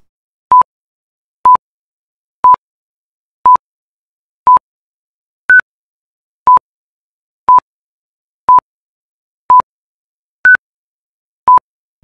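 Twelve brief pure-tone beeps, evenly spaced about one second apart, form an auditory oddball sequence: most are a steady lower pitch, and two higher-pitched oddballs fall sixth and eleventh, clean and loud against silence.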